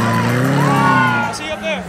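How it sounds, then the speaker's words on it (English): A Mercedes-AMG SLS supercar drives by on a Miami supercar cruise, its engine a strong rising and falling roar nearby as excited voices talk over it. "AMG SLS"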